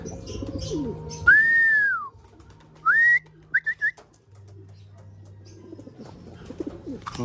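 Racing pigeons coo and whistle close by during hand training, with a long rising-falling call, a shorter call and a few quick chirps, over low background rumble.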